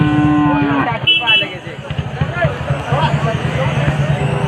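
Jersey cows moo loudly at a cattle market in Malegaon, Nashik, amid a busy outdoor crowd, with people talking and milling about throughout.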